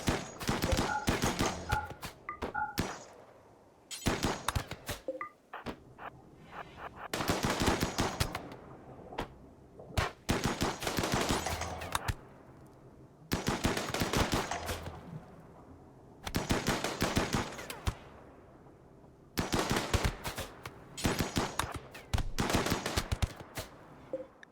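Bursts of automatic gunfire from RimWorld as colonists shoot attackers forcing through a base, several loud rattling volleys separated by short pauses.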